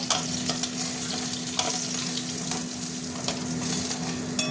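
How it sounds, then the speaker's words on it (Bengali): Eggs fry in hot oil in a pan, giving off a steady, close sizzle with small crackles and pops and no talking. "দেখো সব কটা ডিম ভাজা হয়ে গেছে।"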